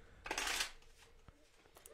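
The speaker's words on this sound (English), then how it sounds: "Brad's gonna power shuffle." A deck of cards gets power shuffled during a board game stream, one quick loud riffling burst, followed by a single soft tap and faint rustles.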